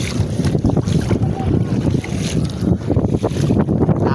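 Wind buffets a fishing boat on rough, choppy sea, with steady gusting roar and splashing water close by, and a voice speaking briefly under the noise.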